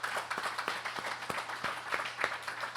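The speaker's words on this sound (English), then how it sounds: "Round of applause." Audience applause at a pitch clinic event, steady overlapping clapping from a room of people, moderately loud and continuous with no talking.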